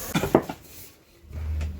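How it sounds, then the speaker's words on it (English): A lid is set onto a cooking pot of Manipuri-style chicken curry, two quick close metallic clanks followed by a quiet low hum. "Close with the lid."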